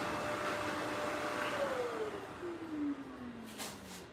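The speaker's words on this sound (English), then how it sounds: "You hear him turning on the little vacuum for a second." A small household vacuum cleaner switched on briefly at a family gathering, its motor whine sliding downward in pitch as it runs, fairly faint against room background.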